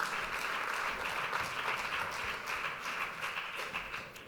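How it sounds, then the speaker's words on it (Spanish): An audience at a talk claps steadily for a speaker, dense applause filling the room at an even level and easing slightly at the end. "Así que fuerte el aplauso con él."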